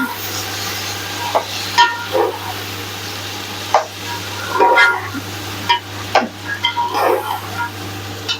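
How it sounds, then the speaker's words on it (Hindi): Peas go into matar pulao in a pan and get mixed, with intermittent spoon scrapes and knocks over a gentle sizzle and a steady low hum, close by with no talk. "साथ ही हम इसमें अपने मटर ऐड कर देंगे। अब इसको अच्छी तरह से मिक्स कर लेंगे।"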